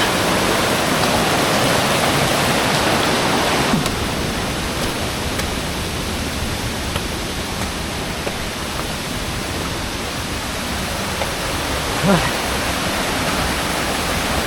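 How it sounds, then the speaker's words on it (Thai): The third tier of Krok E-Dok waterfall roars steadily and loudly up close, a dense, continuous rush of falling water that fills the whole span. "น้ำตกชั้นที่สามแล้ว"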